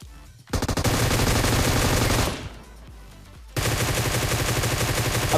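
Loud bursts of automatic gunfire in the mobile battle royale game PUBG Mobile, with a sustained volley, a brief lull of quieter shots, then another long continuous burst.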